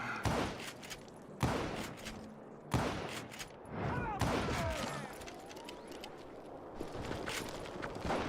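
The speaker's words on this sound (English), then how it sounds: "Kid Curry opened up on me with a goddamn Gatling gun." Gatling gun fire in the video game Call of Juarez Gunslinger, loud bursts and heavy impacts repeating over several seconds amid chaotic battle noise.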